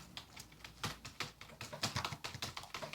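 Quiet, close typing on a computer keyboard, a quick irregular run of light key clicks and taps with no talk over it.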